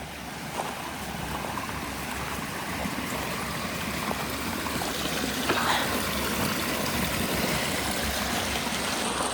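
A creek running down a hillside and passing under a gravel road through a culvert near Freegold, Yukon makes a steady, dense rushing wash, continuous and fairly close, with no voices.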